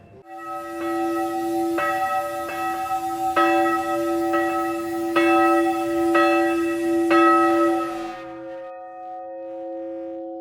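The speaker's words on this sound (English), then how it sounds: "The clapper is put into place and the bell is ready for some tests." A newly cast church bell test-rung at the Taylors bell foundry, struck about eight times in a steady rhythm with bright ringing tones, then left to hum and fade on its own.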